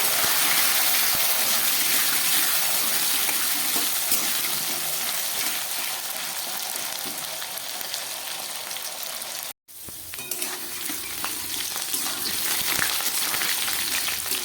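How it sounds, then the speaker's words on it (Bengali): Potatoes frying in a pan with green chillies, a loud, dense, continuous sizzling hiss close up that cuts out for a split second before resuming, with no talking. "আলুটাকে একটু ভেজে নিচ্ছি।"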